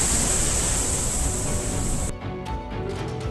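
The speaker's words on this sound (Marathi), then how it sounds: "जोरदार पावसामुळे येरळा नदीला पूर आलाय." The Yerala river in flood after heavy rain, overflowing a weir at Vazar village in Khanapur taluka, Sangli district. Heard as a loud, steady rushing roar of water that cuts off abruptly partway through, leaving fainter washing noise.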